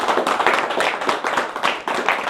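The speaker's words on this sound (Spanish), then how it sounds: "Un aplauso." An audience at a photography performance applauds, with dense, steady hand clapping from a group close by for a couple of seconds.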